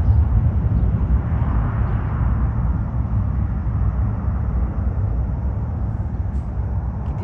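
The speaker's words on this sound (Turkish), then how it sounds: "Şimdi tam uçak gitti ya." A fixed-wing airplane flies past over a village garden, a broad steady low rumble and roar filling the whole stretch at fairly loud level, slowly easing off toward the end.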